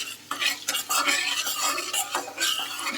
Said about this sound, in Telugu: మనకి మెంతులు వచ్చేసి మంచి కలర్ రావాలండి మంచి కలర్ వచ్చేంత వరకు కూడా డార్క్ బ్రౌన్కి వచ్చేంత వరకు కూడా బాగా ఫ్రై చేసుకోవాలి